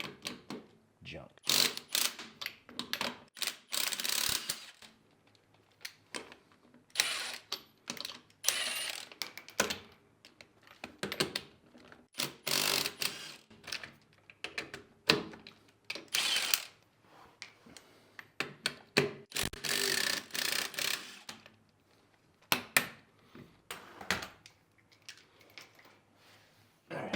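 A ratchet works swollen chrome-capped lug nuts off the wheels of an LS-swapped Camaro, giving repeated bursts of quick close-up clicking and metallic rattling in separate spells with pauses between them.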